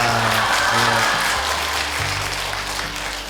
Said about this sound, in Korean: 별로 안 반가워하는 것 같아서 그냥 제가 박수 쳤어요